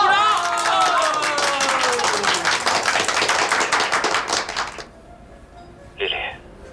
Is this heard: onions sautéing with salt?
no